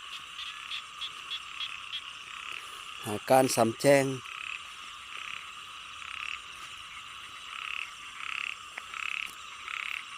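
Frogs calling around rice paddies at night during frog hunting, a dense continuous chorus of croaks and trills, with a louder burst of close croaking midway and brief speech present.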